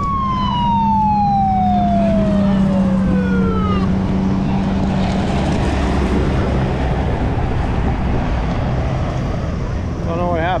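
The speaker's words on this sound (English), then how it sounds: "there goes the ambulance." An ambulance siren wails and sweeps downward as it passes at an outdoor farm show, loud at first and fading into heavy engine and road rumble, with a voice briefly heard.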